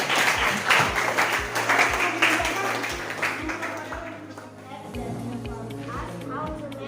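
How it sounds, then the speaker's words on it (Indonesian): Classroom applause for a student, a burst of clapping that fades after a few seconds, with a steady rhythmic tapping underneath and voices in the room. "Tepuk tangan untuk si Ender."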